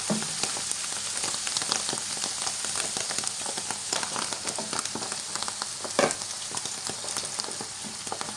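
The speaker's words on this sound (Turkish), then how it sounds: "Güzel kızardı." Mushrooms sizzle and crackle steadily as they fry in a pan, a dense continuous hiss with scattered pops and one louder burst midway, no voices.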